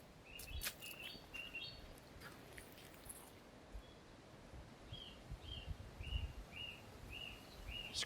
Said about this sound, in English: There's quite a lot of birds around, and they do take advantage of the free water.